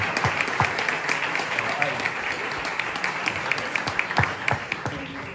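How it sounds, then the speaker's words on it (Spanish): Loud audience applause at a board game festival gala in Barcelona, steady dense clapping throughout with a voice speaking over it. "Un aplauso muy fuerte para Paco Yáñez, para David y Tri"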